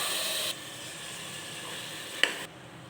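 Goat meat frying in a pan with mashed tomato and masala, a steady loud sizzle that drops to a quieter hiss, with one sharp clink near the end before the sizzle fades further.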